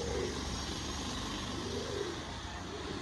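Pigeons in a bird shop give soft, low cooing calls a few times over a steady background hum. The birds sound near but quiet.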